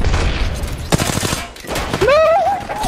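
Gunfire in the online battle royale game Apex Legends, a burst of rapid shots around the middle followed by tonal in-game effects, mixed with other game sounds and someone talking.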